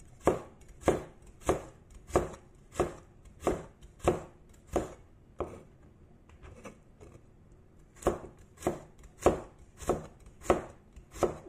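A knife thinly slicing washed carrots on a cutting board, steady rhythmic chops close up, one even run, a short pause, then another burst of quick cuts, with no talking.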